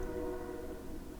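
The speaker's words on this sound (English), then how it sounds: "We're actually really far away from that train, but you can hear it really loudly." A train rumbles steadily in the distance in Unreal Engine, a low continuous drone with a faint tonal hum and no voices.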